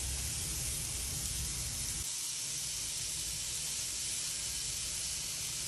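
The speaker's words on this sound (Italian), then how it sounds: "Tempo si frigge il guanciale e le cotiche" Diced guanciale and pork rind fry in a pan with a steady, even sizzling hiss that carries on at a moderate level throughout, unbroken by any talk.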